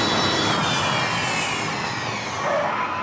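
Electric rally car in the racing game V-Rally 4, a steady loud synthetic engine whine sustained for the whole stretch with broadband hiss, slight pitch swells, no talk.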